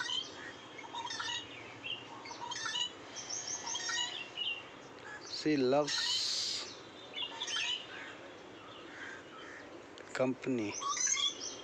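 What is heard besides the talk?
bird chirping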